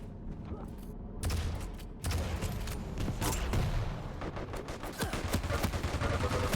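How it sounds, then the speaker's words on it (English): A light machine gun firing in Quake Champions during a tournament match, loud continuous rapid bursts mixed with other game explosions and effects. "Good light machine gun used by rapha"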